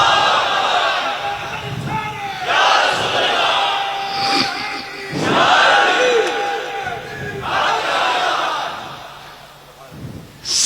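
A large crowd at a Sunni religious gathering chanting slogans in loud, surging bursts of roughly two seconds each, rising and falling in waves with short gaps between them, broad and echoing.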